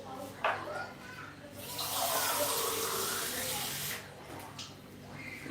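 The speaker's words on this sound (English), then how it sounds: "So I'll be adding more water." Water pours from a tap into a pot of Nigerian jollof rice being cooked at home, a steady close hissing splash lasting about two seconds between quieter kitchen noises.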